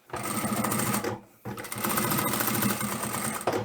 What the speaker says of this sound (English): that's where we'll start top stitching